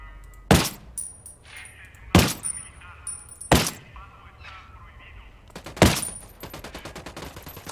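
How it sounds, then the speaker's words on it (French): Rapid gunfire bursts in the tactical shooter Ghost Recon Wildlands, four loud sharp shots spaced a second or two apart, each followed by ringing and clatter, with quieter mechanical clicks and rattles between them. "Ah, je tire trop bas ou quoi?"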